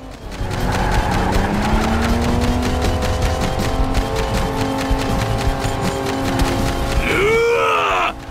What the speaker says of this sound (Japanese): ビクトの車が来るぞ後ろだ気をつけ ろ